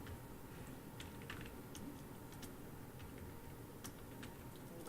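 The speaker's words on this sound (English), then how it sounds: "Oh my goodness, my typing." Fingers type on a computer keyboard in a quiet room. The keystrokes are faint and soft, forming irregular clusters of clicks over low background hiss, with no speech.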